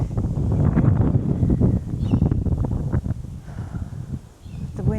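Cold winter wind gusts outdoors, buffeting the microphone with loud low rumbling bursts that swell and ease over a few seconds.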